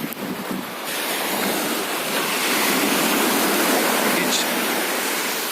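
Sea surf washing steadily along the shore while grill grates are rinsed in salt water, a loud continuous roar mixed with heavy wind buffeting the microphone, after a brief start of lighter splashing.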